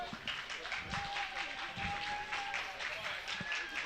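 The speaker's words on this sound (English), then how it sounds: "You hear a little ovation from the crowd." Brief applause from a small crowd at a men's curling club nationals match, a scattering of claps running steadily under nearby talk and arena hum.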